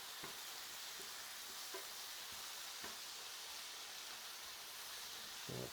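Stuffed eggplant with Pecorino Romano cheese fries in a pan, a faint, steady sizzle with soft ticks and a brief clatter at the end.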